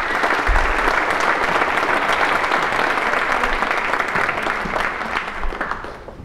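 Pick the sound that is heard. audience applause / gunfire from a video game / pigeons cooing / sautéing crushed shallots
audience applause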